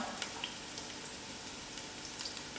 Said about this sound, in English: So I'll just put it in to fry